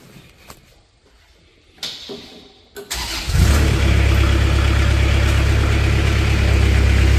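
A 2014 Moffett M55 truck-mounted forklift cranks over after a few clicks and clatters, then its engine catches and settles into a loud, steady, close idle inside a shop.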